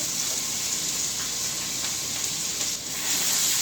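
Minced garlic sizzling steadily in heated oil in a skillet, a continuous close, even hiss with faint crackle throughout.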